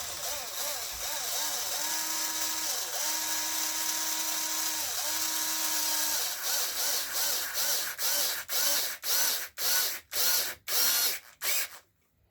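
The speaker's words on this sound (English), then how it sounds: "I'm just gonna use my drills for time's sake." A power drill drives small 2.5 mm button head screws into the rear differential of an Arrma Infraction RC car, whirring in a long steady run, then in rapid short trigger-tapped bursts that end with a ratcheting stop.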